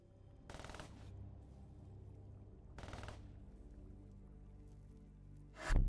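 Gunfire in Call of Duty Black Ops 3 comes as two short rapid bursts a couple of seconds apart over a low rumbling game backdrop, ending in a sudden louder thump.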